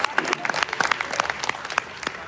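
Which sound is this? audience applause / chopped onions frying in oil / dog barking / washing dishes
audience applause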